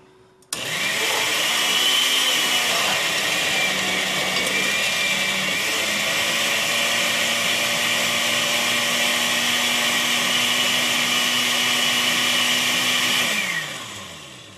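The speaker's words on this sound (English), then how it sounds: "The tomatillos are in the blender." A blender pureeing tomatillos whirs loudly and steadily for about thirteen seconds, its motor pitch holding constant before winding down at the end.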